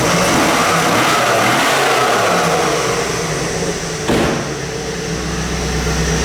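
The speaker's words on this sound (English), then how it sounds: "it's got a nice sounding dual exhaust." A 1998 Pontiac Trans Am with dual exhaust revs indoors, its engine rising and falling in loud, rumbling surges over a steady idle.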